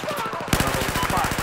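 Rapid automatic gunfire in the video game Battlefield 4, a steady rattling burst of shots throughout that grows louder and denser partway through, close and continuous.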